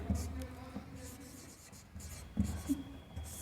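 A pen scratches across paper while maths working is written out, a soft rubbing scrawl with occasional firmer strokes, close and fairly quiet.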